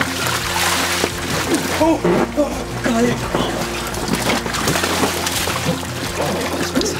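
Splashing water from someone plunging in off a water slide, with excited exclamations from a voice over the noisy churn of cold water.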